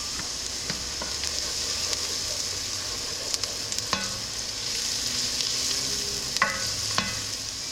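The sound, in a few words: garlic powder cooking in a pan for vodka sauce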